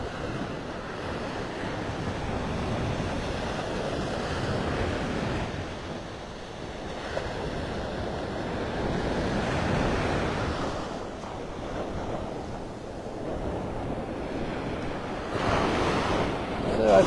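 Surf rolls onto Vanderbilt Beach in North Naples, Florida, on a morning walk, a continuous wash of waves with gusting wind buffeting the microphone, swelling and easing over the length of the clip.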